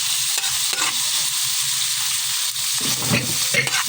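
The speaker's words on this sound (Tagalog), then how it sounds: "Sinabi ko nang igisa yung kamatis and onion." Tomato and onion sauté in a pan with a steady bright sizzle, broken by a few scraping stirs of a utensil near the end.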